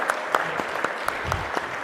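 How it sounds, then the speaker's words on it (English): Applause at a reconciliation award ceremony in British Columbia, a thin, short spatter of claps from a small crowd, with scattered individual hand claps at moderate distance. "how about a big round of applause for that meal?"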